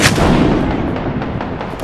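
A frag grenade blows up in the Apex Legends battle-royale shooter, one loud, close blast that decays into a sustained crackling rumble with scattered gunfire-like pops trailing off, no voices heard.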